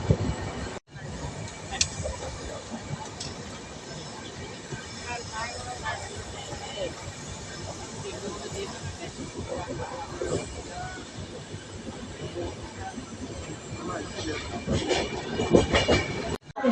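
A train rolls into Kalyan Junction with a steady rumble and rattle of wheels on rail, squeals and clatter that swell toward the end, with people talking nearby.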